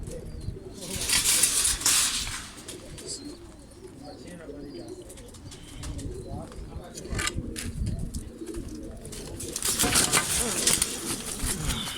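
Pigeons coo softly in the rain, with occasional bursts of flapping wings and some bird chirps. The sound is steady and fairly close, and a voice can be heard now and then in the background.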